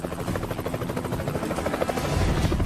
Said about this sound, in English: When the helicopter was coming in to land